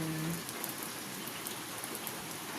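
Steady typhoon rain in Biliran, Philippines falls continuously, a dense even hiss of drops on surfaces with no voices.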